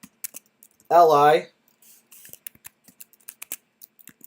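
Code being typed on a computer keyboard, heard as sparse, crisp key clicks in short runs that follow a brief spoken word, light and close.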